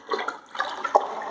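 A child splashes and plays in a bucket of floor-mopping water, making close, irregular bursts of slapping and sloshing liquid with brief pauses between them.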